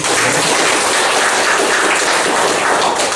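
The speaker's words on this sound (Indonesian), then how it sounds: "kita beri aplaus dulu" Audience applause at an event in Palu, Indonesia: dense, loud, sustained clapping from a crowd filling the room, steady throughout with no voices over it.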